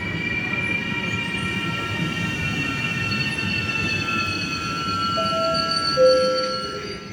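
A train pulls in at platform 9 of Padova station with a steady rolling rumble and drawn-out metallic wheel squeals and screeches, growing louder near the end as it comes closer.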